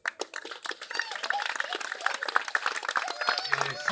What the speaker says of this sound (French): je demanderai qu'on redouble ces applaudissements